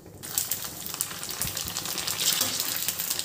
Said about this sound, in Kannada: ಇದು ಎಣ್ಣೆ ಆಯಿಲ್ ಹಾಕ್ಬಿಟ್ಟು ಫ್ರೈ ಮಾಡ್ಕೊಳೋಣ